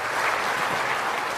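A crowd applauds steadily, a dense wash of clapping hands that stays loud and even throughout the short burst.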